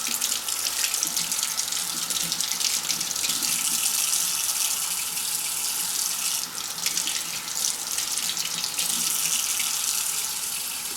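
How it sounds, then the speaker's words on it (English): Kitchen tap water runs into a sink, rinsing tomato seeds and pulp away in a continuous, fairly close hiss and splatter that holds for the whole stretch. "I'm just rinsing them right down the sink."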